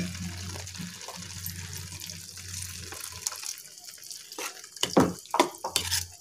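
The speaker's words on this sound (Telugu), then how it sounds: "కొద్దిగా వాటర్ పోసుకొని మిక్స్ చేసుకోవాలి" Water is poured into a curry in a pan and stirred, with a gurgling pour followed by wet sloshing and irregular knocks from the spoon, fairly close and moderate in level.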